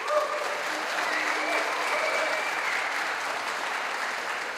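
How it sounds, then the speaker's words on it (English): Steady applause from the crowd at the Finnish Game Awards 2024 celebrating last year's game releases, broad and sustained for several seconds with faint background voices mixed in. "Let's give a bit of an applaud"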